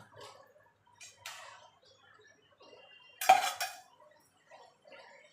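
Raw mango pieces dropped into melted sugar in a pan for chutney, a few soft clinks and one louder clatter of utensil against pan amid a quiet background.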